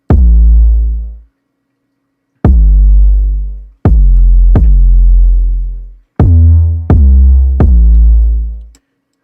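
Five heavy, distorted 808 bass hits with long booming tails, loud and alone, spaced irregularly with short silences between some of them.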